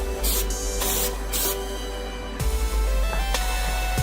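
Spray paint hisses from a can in repeated bursts of varying length as a third coat goes onto a car shifter, loud and close with short pauses between passes.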